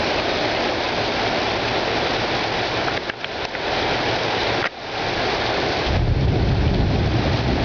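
Thunder rumbles through a heavy downpour. Loud, steady rain roars throughout, a couple of brief dips mark the thunder, and the low roar swells toward the end. No voices are heard.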